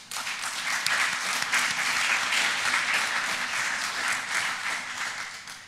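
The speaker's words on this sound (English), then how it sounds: "please give a round of applause to UIM members who made this event possible" An audience at a university talk event claps in sustained, dense applause that is steady and moderately loud and fades slightly toward the end.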